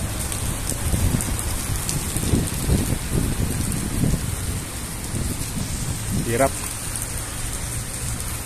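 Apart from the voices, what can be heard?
heavy rain during a storm in Abu Dhabi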